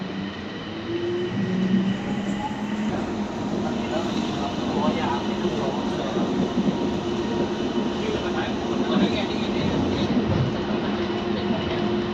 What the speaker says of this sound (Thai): รถไฟฟ้าสายสีทอง ไปไอคอนสยาม เป็นรถไฟขบวนเล็กๆมีแค่สองตู้นะ